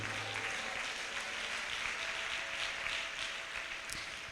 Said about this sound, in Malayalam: മനസ്സിലായവർ മാത്രം കൈയടിക്കുക